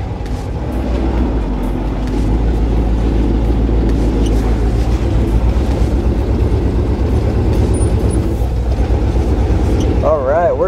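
A 1975 International 1800 truck drives with a loud, constant low engine rumble and rattling drivetrain throughout, close up, with voices talking over it.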